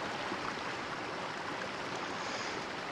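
Rushing water from a waterfall in the VR game Journey of the Gods, a steady broadband roar with no pauses, moderately loud and heard alone without speech.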